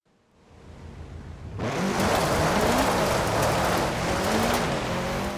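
A 2013 Subaru BRZ race build, rear-wheel drive, laps a drift route in Forza Horizon 4. Its engine fades in, then holds a loud, steady, raspy roar with shifting revs.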